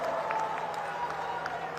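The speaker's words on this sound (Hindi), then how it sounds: "एक बार हाथ उठाकर तालियां बजाइए" A crowd at a political rally in Uttarakhand addressed by Rajnath Singh claps continuously, making a dense, steady wash of applause throughout with voices mixed in.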